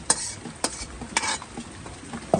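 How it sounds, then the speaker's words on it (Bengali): Pointed gourd (potol) fries in a pan at home: repeated scraping spatula strokes, about four or five, over a faint background sizzle. "আর যে এখানে পটল ভাজছে"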